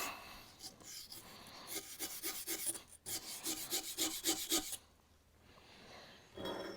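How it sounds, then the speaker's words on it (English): Small stainless steel brush scrubbing crud out of a vise, quick repeated rasping strokes in a rapid back-and-forth rhythm, close and moderately quiet, with a brief pause and renewed scrubbing. "So I took a welding rod and a little stainless steel brush in here."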